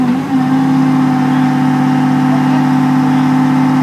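A 1986 Chevrolet one-ton 4x4 truck with a Whipple-supercharged Detroit 6V53 diesel runs on a dyno with a loud, steady, high-pitched whine and a throbbing engine drone held close and continuous, no voices.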